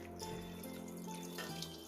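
Water poured into a pot of beef pares with onion, soy sauce and star anise, a steady close trickling splash with a faint ringing tone, running continuously without voices.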